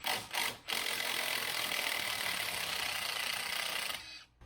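Rapid continuous ratcheting from a ratchet wrench loosening the strut top nut on a Ford Foxbody Mustang, a close, even clicking run of about three seconds that stops abruptly.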